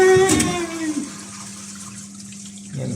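A toilet fitted with a Flomasta dual flush valve flushes: water rushes and gurgles loudly at first, then a steady hum of refilling runs on with a brief surge at the end.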